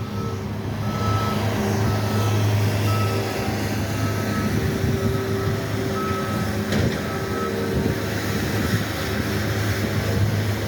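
Skid steer loaders clearing snow during Boston's first snowstorm of 2022, a steady loud engine drone with repeated reversing beeps sounding throughout, no talking.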